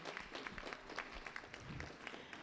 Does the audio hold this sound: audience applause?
yes